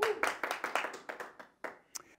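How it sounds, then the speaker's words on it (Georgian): A few people in a sports talk-show studio clap, producing a quick run of sharp, uneven hand claps that thin out and stop in the last moments. "ჩემი აპლოდისმენტები მას"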